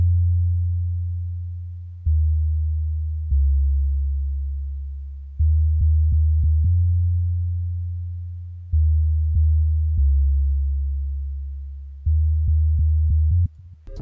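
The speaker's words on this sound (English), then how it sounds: "So I started with this 808." A sustained 808 sub-bass programmed in a synth for a futuristic trap beat plays alone, long deep booming notes gliding between pitches in a repeating rhythmic pattern, loud and close with no voices.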